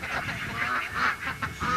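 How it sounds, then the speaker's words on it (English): Ducks on an Illinois family farm give a run of loud, nasal quacks and honks that overlap and pulse irregularly in a close, continuous flock chatter with no talking. "And some of his ducks."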